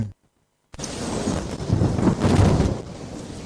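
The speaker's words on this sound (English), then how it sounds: "It was raining" Heavy rain and rumbling thunder in a radio advertisement burst in after a brief silence, a dense continuous roar that swells and rolls loudly before easing slightly.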